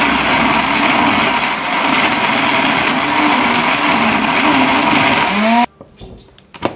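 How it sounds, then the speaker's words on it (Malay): An electric blender grinds a spice paste with salt and belacan, a steady loud whirring drone running several seconds before cutting off abruptly into quiet kitchen clatter. "So sahabat, jom kita blender."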